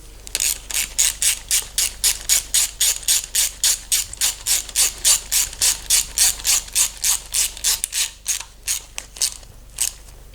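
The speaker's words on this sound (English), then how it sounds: "Torque them to 89 inch-pounds. Click, click." Torque wrench clicking in a fast, steady series of sharp ratchet clicks while bolts on a Chevy LS3 engine are tightened to 89 inch-pounds, close and loud with no talk.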